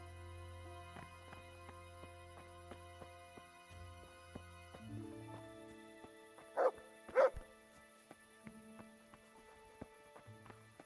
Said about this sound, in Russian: Подожди, не лай.